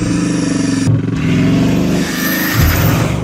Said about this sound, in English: it's essentially the same engine as you get in the Supersport 300 Plus, so it should sound something like this.